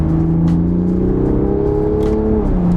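A 2020 Toyota Supra's engine pulls loud and steady under acceleration on a mountain drive, its rising drone sustained close up with no voices over it.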